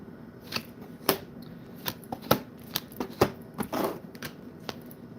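Tarot cards are shuffled by hand in a series of crisp, irregular riffling snaps and soft slides, close and fairly quiet, with no talking.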